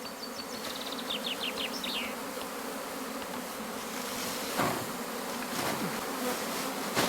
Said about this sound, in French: Elle est assez monstrueuse cette colonie.